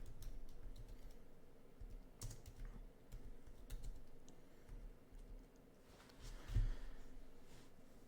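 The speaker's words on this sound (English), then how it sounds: "go to Google and we type in" Someone types on a computer keyboard: a quiet, steady patter of light key clicks with one slightly firmer tap near the end, close and soft, with no voice.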